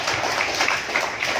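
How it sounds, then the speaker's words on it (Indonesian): Audience applause at an Indonesian football league launch event, a steady wash of many hands clapping at moderate volume, filling the whole moment without any voices over it. "Ayo tepuk tangan lagi kita semua."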